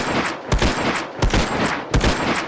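Marlin bolt action rifle shots in the Minecraft Scorched Guns 2 mod: four loud, sharp gunshot cracks spaced roughly half a second to a second apart, each with a brief rumbling tail.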